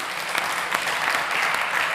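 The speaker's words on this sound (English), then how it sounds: "Big round of applause, please, for our fabulous ladies and gentlemen of the jury." Steady, dense applause from a conference audience fills the hall at a startup summit pitch stage, sustained clapping with no speech over it.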